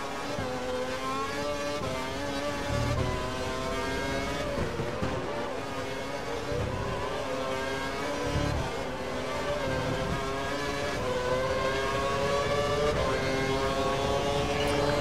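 A Formula 1 car in the racing game F1 2012 at Hockenheim, its high-pitched engine screaming steadily as it accelerates, gear changes briefly dipping the tone, loud and continuous without talk.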